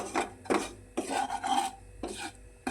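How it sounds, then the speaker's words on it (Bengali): Semolina is stirred in a pan with a spoon in repeated rasping scrapes, about four gritty strokes in rhythm, close and distinct with no talking. "সুজিটাকে কিন্তু আমি নাড়িয়ে নিচ্ছি"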